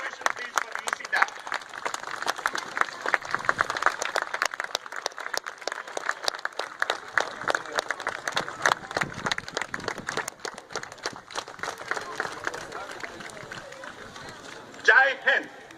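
A crowd gives a standing ovation at an Independence Day event, dense, sustained clapping that continues throughout, fading slightly toward the end.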